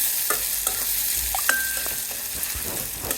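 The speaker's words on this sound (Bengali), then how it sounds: "তো পেঁয়াজটাকে আমি একটু বাদামি কালার করে ভালোভাবে ভেজে নিব" Onions fry in oil in a pan toward brown, with a steady loud sizzle and occasional stirring scrapes and light metallic clinks of a spoon, no voices.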